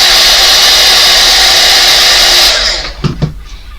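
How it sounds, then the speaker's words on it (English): A handheld heat gun blasts loudly and continuously while drying paint on a fence or window peeper, then cuts off abruptly, leaving a few faint clicks and knocks. "If you use your heat gun, if you use your heat gun to dry layers in between"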